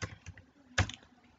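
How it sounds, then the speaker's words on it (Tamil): Computer keyboard keys tapped while entering a captcha code on an online form, a few soft, quiet clicks with one firmer keystroke near the end. "அந்த கேப்சா கோடை டைப் பண்ணுங்கள்"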